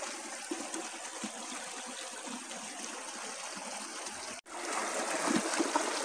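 River water flows steadily over stones near a temple site, a continuous close rushing and trickling with a brief dropout partway through, no voices.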